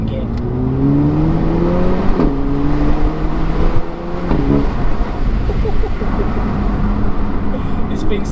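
A Renault Megane RS Trophy pulls hard in race mode through second gear, engine note climbing loudly with a brief shift dip, recorded close, likely from inside the car, with a voice speaking over it.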